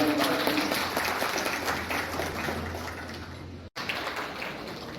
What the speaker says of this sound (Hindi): ताली बजाकर स्वागत